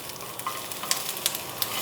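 Onion sizzling and being stirred in a ceramic frying pan, a steady close frying hiss broken by a few sharp scraping clicks, with no talking.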